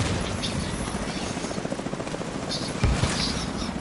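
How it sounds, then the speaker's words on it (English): Two helicopters passing overhead as a steady, loud rotor drone fills the scene, with a brief heavier thump near the end; a faint voice is present underneath. "Here come two helicopters."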